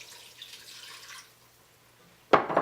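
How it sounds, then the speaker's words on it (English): Water splashes and gurgles briefly and loudly near the end as it is poured into a veggie gumbo pot holding frozen tomatoes, after a stretch of faint trickling. "gonna add 4 cups of water"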